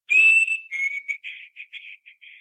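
A person whistles in imitation of a chickadee: a long clear high note, then a string of shorter, softer whistled notes.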